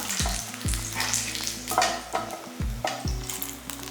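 Ginger fries in a pan for groundnut chutney, a close bright sizzle with repeated clanking stirs of a utensil against the metal, no speech.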